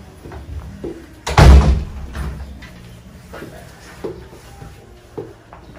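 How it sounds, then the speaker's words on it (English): A door inside a bookshop shuts with one loud heavy thud, followed by quieter creaks, clicks and faint room sounds. "be able to just close that door behind you"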